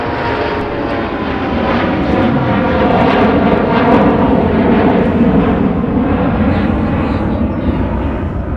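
SkyWest regional jet departing MSP airport for Rochester, a loud sustained engine roar with a rising, whining tone that swells and holds near the listener, heard alone.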